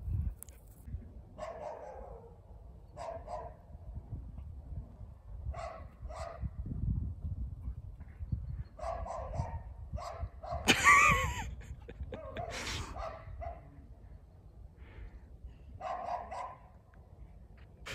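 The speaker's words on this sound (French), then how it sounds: "Là il est avec un chien qui veut jouer" Two dogs play together outdoors with short barks, yips and wheezy huffs coming in scattered bursts over steady background rumble.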